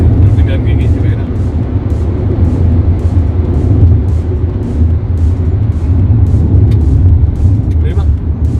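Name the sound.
Wuling Cortez Turbo car driving fast on a race circuit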